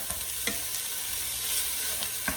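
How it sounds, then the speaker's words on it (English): Sesame oil is stirred quickly in a hot pan: a close, steady hiss of frying with a few soft scraping strokes of a utensil, and no talking. "I'll give this a quick stir."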